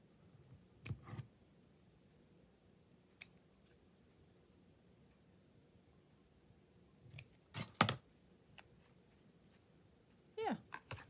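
Scissors cutting paper tails for decorating a journal page, a few quiet, close snips and rustles in short clusters separated by near silence.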